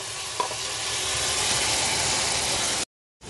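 Tomatoes dropped into a hot frying pan for a trucker's meal of sucuk, a steady close sizzle and frying hiss with a brief stir clink near the start, then a cut to silence.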